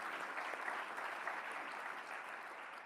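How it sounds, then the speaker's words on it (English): An audience claps steadily for a speaker's wife at a talk about fatherhood, a continuous dense patter of many hands at even loudness with no voices over it. "you can give her a round of applause"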